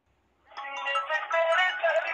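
Phone call connecting to an Airtel caller tune: after a brief silence, a bright melodic tone starts and plays on steadily and clearly.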